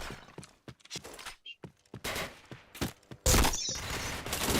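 Bursts of gunfire from a first-person shooting video game, sharp cracks and thumps scattered across the stretch, rising to a loud sustained barrage near the end, with a voice murmuring briefly among the shots.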